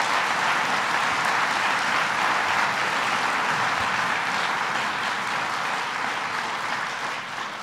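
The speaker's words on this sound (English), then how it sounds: "I'm going to ask them to stand so you can give them a big round of applause" Sustained, dense applause from an audience at a governor's announcement event for after-school programs, steady and loud before fading slightly at the end.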